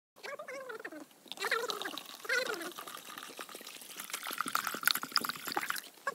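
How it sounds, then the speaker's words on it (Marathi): Water is poured into a sprayer pump tank holding a little urea, a steady splashing rush lasting a few seconds after a voice speaks briefly at the start. "त्यात जरा पाणी घालूया"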